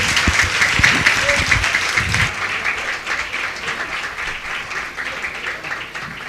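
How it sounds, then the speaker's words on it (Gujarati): A devotional debate audience breaks into loud, dense applause that peaks in the first couple of seconds, then thins and fades gradually while still continuing. "જોરદાર તાળીઓથી આપણે મુકુંદ ભગત અને હર્ષ માંગરોલિયાને વધાવશું"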